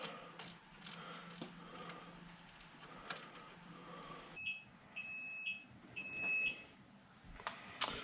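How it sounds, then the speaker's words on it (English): A kitchen timer signals that baked potatoes are done with several short, high electronic beeps in a regular pattern, heard close over quiet kitchen background noise. "that timer means my potato is done"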